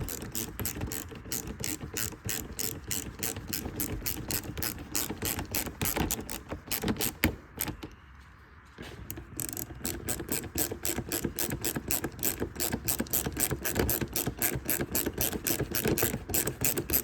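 A hand ratchet clicks in rapid, even bursts while driving plastic-clipped screws during a 2004–2010 Chevrolet Cobalt belt change, close and steady with one brief pause before the clicking resumes.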